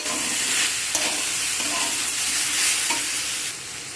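Spinach and vegetables stirred together while frying in a pan, giving a constant loud sizzle with faint periodic scraping strokes running throughout.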